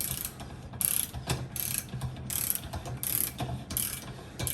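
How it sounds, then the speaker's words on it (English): Ratcheting clicks of a torque wrench set to 30 pounds tightening a trailer wheel hub nut, a series of bursts of metallic clicking at close range with brief pauses between pulls, no voices. "We're going to torque down"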